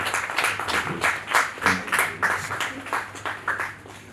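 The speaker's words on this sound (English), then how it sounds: "Please, a round of applause" Audience applause welcomes a speaker at a tourism media roundtable, a moderate wash of clapping that swells and dips in waves across the few seconds, heard from within the room.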